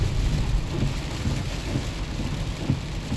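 Rain pours steadily around a car on a rainy drive to work in Redwood, a dense, even hiss with low road rumble and faint splashes from passing cars, no voices.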